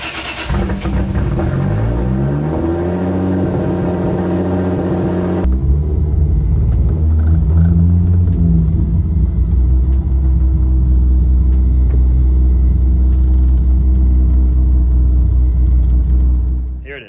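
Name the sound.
800HP Toyota Supra with 2JZ-GTE engine running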